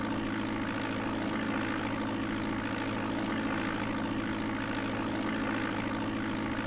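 Simulated airliner engine from the DOS game Flight Simulator 4, a steady low droning hum with a buzzy tone, constant and unchanging throughout.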